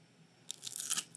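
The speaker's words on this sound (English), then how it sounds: "Our green beans are crunchy" Crisp, close crunching of green beans, a quick cluster of crackly bites snapping over about half a second against a quiet background.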